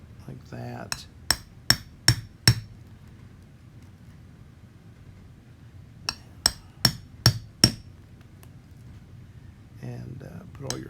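Sharp taps of a tool driven through a stack of paper to punch holes for a Japanese stab binding, two bursts of five evenly spaced strikes, close and crisp over faint low background noise.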